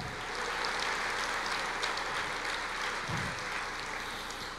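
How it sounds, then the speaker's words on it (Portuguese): A church congregation claps steadily for several seconds, a broad sustained wash of applause filling the room with no voices standing out. "Aplauda o Senhor, glorifique o Senhor."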